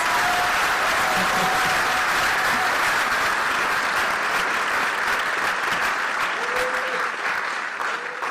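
A large audience applauds participants at a university Charter Day celebration, sustained, full clapping from many hands that holds steady and tapers a little near the end, with faint crowd voices beneath.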